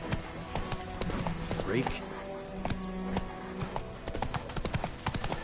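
Galloping horse hooves clip-clop steadily in the video game Wo Long: Fallen Dynasty, with a brief whinny partway through and someone talking over the hoofbeats.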